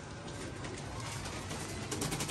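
Pigeons pecking at scattered grain and calling softly, a steady dense rustle of birds at close range with faint coos mixed in, no voices.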